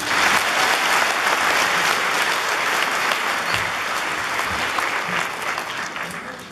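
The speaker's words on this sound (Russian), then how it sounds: "Прямо одни аплодисменты и начнем." A seated audience applauds at a comedy show, a dense, even burst of many hands clapping that holds steady and loud for several seconds before tapering slightly at the end.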